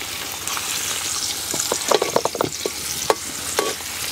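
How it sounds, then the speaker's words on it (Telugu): Chopped onion pieces hit hot oil in a pan and sizzle steadily, with a few sharp stirring clicks and pops near the microphone and no talking. "నూనె అయితే కాగింది. ఇప్పుడు ఇందులో ఉల్లిపాయ ముక్కలు వేసుకుంటున్నా."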